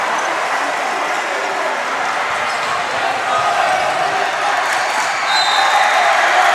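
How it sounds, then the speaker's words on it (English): Jurong Secondary School crowd at a school boys' basketball final roaring and cheering continuously, a dense wash of voices that grows louder toward the end, with a commentator talking over it. "the Jurong crowd is going crazy"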